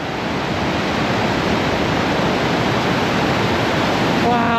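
Deception Falls pouring beneath Highway 2, a steady, loud, close roar of rushing whitewater that stays constant throughout, with no voices rising above it.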